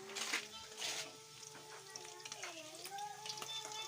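Food frying in a pan with bagoong, soft crackling sizzle, accompanied by faint clinks and a quiet tonal hum in the background.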